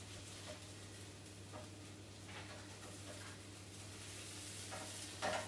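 Potato rosti frying in a pan over slightly lowered heat, giving a soft steady sizzle with occasional faint scrapes and stirring taps, steady and moderately quiet under a constant low electrical hum.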